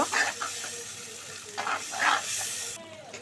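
A spice paste of nuts, mustard and green chili is stirred in a frying pan for egg korma, giving a soft sizzle with several scraping strokes of a spatula, close and moderately loud.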